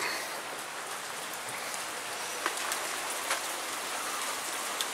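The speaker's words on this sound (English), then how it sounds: "oh, rain's letting up." Steady rain patters continuously on surfaces, a soft even hiss with a few louder drips standing out, no voices.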